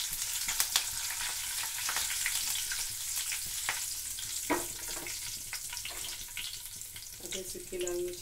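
Curry leaves crackle and sizzle in hot oil while a coconut and roasted chana dal chutney is tempered, a steady close frying hiss broken by sharp pops, with a brief voice near the end.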